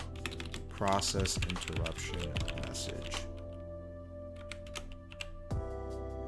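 Rapid typing on a computer keyboard while coding, a dense run of close clicking keystrokes that thins out into sparse taps, with someone speaking over the start.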